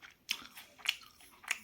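Tawa tandoori chicken bitten and chewed close up, three crisp bites spaced about half a second apart, each followed by soft chewing, no talking.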